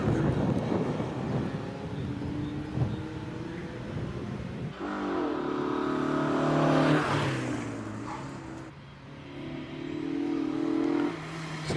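A Mazda MX-5 race car accelerates up a hillclimb course, its engine rising and falling in pitch through gear changes, heard at a middle distance with wind buffeting the microphone.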